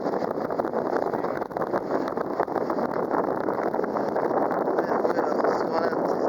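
A strong wind gust blows across a small sailboat rigged with a storm jib, a continuous loud roar of wind buffeting the microphone with rushing water beneath.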